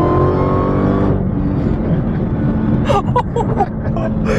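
A 2018 Dodge Demon accelerates hard onto a freeway, its loud engine roaring close before the sound drops to a rushing, rumbling cruise with a few sharp clicks and knocks near the end.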